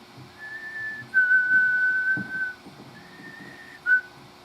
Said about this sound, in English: when I go out and I start their trucks in the morning, I whistle